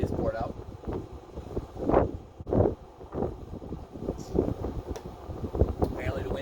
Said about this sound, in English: Apparently the wind will not stop gusting at 90 miles an hour.